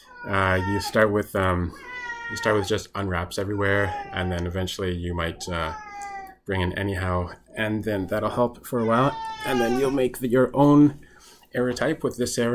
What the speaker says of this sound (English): that's my cat there